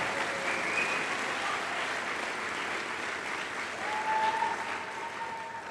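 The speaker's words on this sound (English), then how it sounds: "please give them a round of applause there" Audience at a Boys State swearing-in ceremony giving a sustained round of applause, a steady, even wash of clapping from a large crowd with no pauses.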